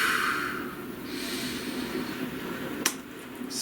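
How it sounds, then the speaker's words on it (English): A slow, deep inhale through the nose fills the quiet at close range, then soft steady airflow follows, and a sharp brief snort-like catch comes near the end. "Please take a nice deep breath."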